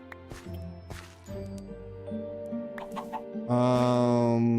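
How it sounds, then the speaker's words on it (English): Minecraft chickens give a few short clucks and squawks amid game ambience, fairly close and brief, with little talking. "Okay, chickens."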